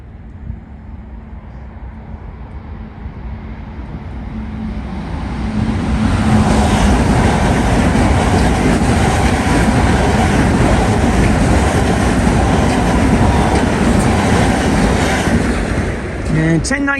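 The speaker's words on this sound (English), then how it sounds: "Train 1019 is about to pass." A Long Island Rail Road train, number 1019, bound from Hillside Yard to Huntington, approaches on track 1 during the morning rush, its rumble swelling from a moderate roar to a loud, steady wash of wheel and motor noise that holds to the end.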